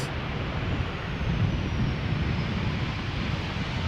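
A passenger jet on a daily flight from Bucharest arriving at Schiphol Airport, a steady broad engine roar heard at a distance and holding level throughout, with no voices.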